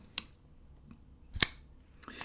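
Two sharp, crisp clicks a little over a second apart as a Microtech Sigil MK6 pocketknife blade opens, followed by a fainter double click, in a quiet setting.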